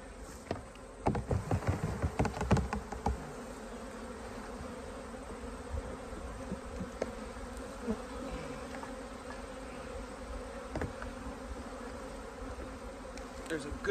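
Honey bees in a hive being treated for varroa mites give off a dense, continuous buzz around a lifted frame. The hum is steady and close, with bursts of individual wingbeats and some handling noises near the start.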